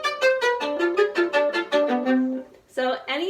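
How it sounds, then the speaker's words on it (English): Bowed string played staccato with the bow forced off the string, a quick series of short, bouncy detached notes, close and clear, followed by a brief pause and two more notes. "if I were to play this and I really try to make the bow come off the string, it would sound like this."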